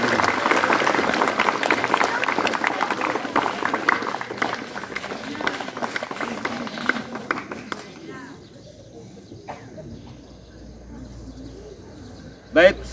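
A school crowd claps for the teachers at a National Education Day (Hardiknas) ceremony at SMPN 5 Sape. Dense, loud clapping runs for about seven seconds, then fades into a quiet outdoor backdrop with faint birds.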